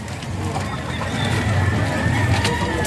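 Hens and other fowl at a busy pet market in Bocaue give soft clucking over a steady din of crowd noise and chatter.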